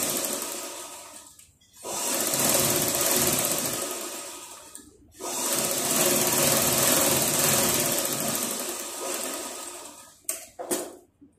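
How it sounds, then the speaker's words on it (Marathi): A sewing machine stitching a tack on blouse lining fabric, two long runs of fast, steady whirring stitches separated by a brief pause, then a few short bursts at the end, with no talking. "अस्तरच्या कापडावर कॉर्नरला एक दाबटीक मारायची"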